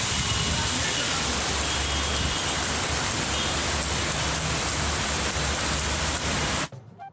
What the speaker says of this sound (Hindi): तूफानी बारिश से नदी नालों में तुग़यानी आ गई।